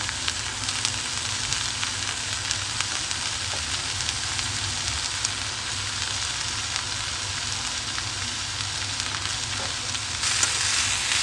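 Three kinds of capsicum stir-fry over a high flame for a chicken Chinese noodle dish, giving a steady, loud, close sizzle that runs unbroken from start to finish.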